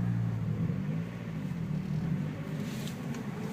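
A manual-transmission car makes a gentle launch in reverse, its engine holding a low, steady idle-like rumble without high revving, close and continuous with no talk.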